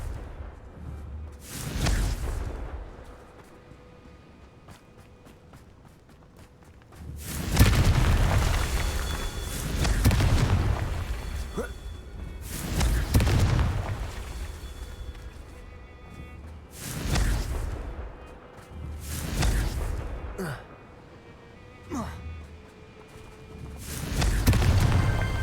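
Confringo fire spell explosions in the video game Hogwarts Legacy: a series of loud, booming fiery blasts, each swelling and rumbling for a second or two, repeating at irregular intervals with quieter gaps between.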